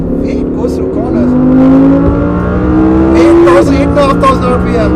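A 2021 Audi R8 with its naturally aspirated engine revs hard toward 8,500 RPM, its rising, sustained wail loud and close with a brief dip partway through, while someone talks over it.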